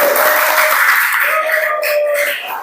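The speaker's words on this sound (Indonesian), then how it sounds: "tepuk tangan yuk untuk semuanya yuk" A class of students claps after a poetry lesson, a brief burst of close hand clapping with a sustained tone running underneath that thins out toward the end.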